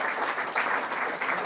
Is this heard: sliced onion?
no